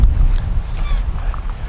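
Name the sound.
wind blowing, north-east Nord-Ost wind at Anapa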